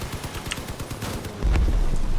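Gunfire in the vehicle combat game Crossout: a dense rapid burst of shots crackling through the first half, then a heavier booming rumble takes over, loud and continuous with no talk.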